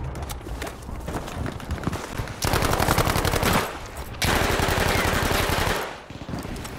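Bursts of automatic weapon fire in Battlefield 5, with two loud sustained rattling bursts separated by quieter stretches of distant shooting and movement.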